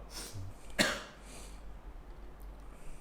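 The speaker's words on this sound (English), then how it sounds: "I'm just catching a fucking cough" One sharp, close cough bursts out early, followed by quiet room noise and a softer throat sound near the end.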